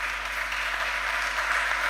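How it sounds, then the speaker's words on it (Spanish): Steady applause from an audience at a talk, a dense continuous wash of clapping held at even loudness throughout, with no voices standing out. "Un aplauso, por favor"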